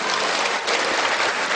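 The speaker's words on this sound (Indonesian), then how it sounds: "Tepuk tangan dong untuk Umi Haja Irena Handono" An audience applauds Irena Handono at a religious talk, a dense steady burst of clapping filling the whole short moment.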